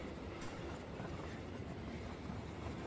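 Train wagons rolling along rails in PUBG, a steady broadband rumble with faint clickety-clack texture, continuous and fairly close, no voices.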